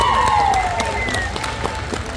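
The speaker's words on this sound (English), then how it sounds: "So let's give her a hand of applause." Applause from a convention crowd for the host of a pinup pageant at a tattoo convention, dense and steady throughout with scattered sharper claps and some whistles or cheers mixed in.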